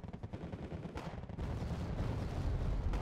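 Explosions from a strike on a tank in the Wargame: AirLand Battle strategy game, a dense rumbling barrage of blasts and gunfire that swells louder in the second half, with no talking.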